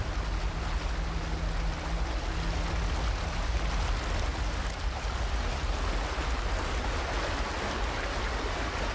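Heavy falling water from a waterfall in the video game Aporia: Beyond The Valley, a dense, steady roar of pounding spray filling the whole clip, loud and close with no letup.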